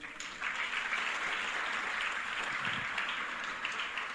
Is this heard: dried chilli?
no